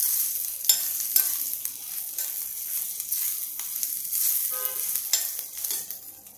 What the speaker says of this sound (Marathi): आलं थोडं जास्त, काश्मीरी मिरची आणि ही तिखट लाल मिरची, हे थोडंस हलवून घेऊया